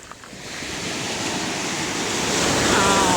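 Strong sea waves break on the shore of a bay, a continuous rushing wash that swells louder toward the end, with wind noise on the microphone.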